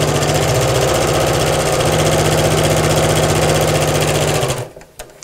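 A sewing machine stitches fabric for a twisted tote bag with a loud, steady, close mechanical whir that runs unbroken for several seconds, then stops abruptly, leaving a few light clicks.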